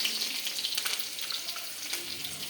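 Mustard seeds frying in a pan with a steady bright sizzle and small scattered pops, close and fairly loud throughout.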